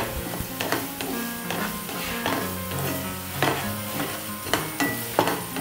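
Finely chopped carrots stir-frying in hot oil for mixed fried rice, with a steady sizzle and repeated scraping stirs of a spatula against the pan, no voices.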